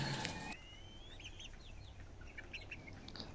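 Bantam roosters of walnut and chintz colouring in a backyard, with a few soft clucks and chirpy calls scattered through a quiet stretch after a brief louder noise at the start.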